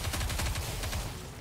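Fast, loud bursts of automatic gunfire from the video game Nikke: Goddess of Victory, a rapid rhythmic rattle that fades slightly at the end.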